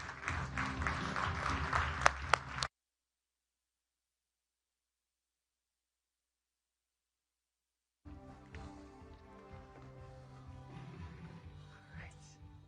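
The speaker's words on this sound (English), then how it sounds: "Give him a round of applause." Loud audience applause at the Reuters NEXT conference lasts under three seconds and then cuts off abruptly into silence. After the silence, a voice speaks over a faint background.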